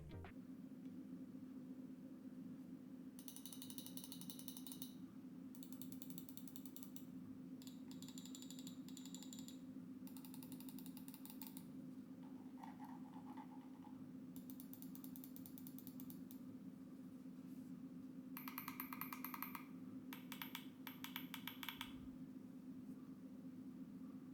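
Quiet Fantech Aria II Pro mouse clicks in short bursts, mixed with ratcheting scroll-wheel ticks, over a low steady background hum.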